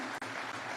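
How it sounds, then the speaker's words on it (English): Audience applause at a launch ceremony for a data protection system at KICC, a dense steady wash of clapping through the whole short moment with one brief break. "if we can just give another warm clap right there"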